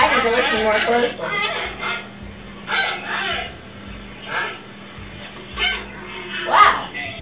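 A giant panda's puppy-like barking played back from a recording: several short, bright yips in uneven bursts, moderately loud over a low hum, with brief gaps between calls.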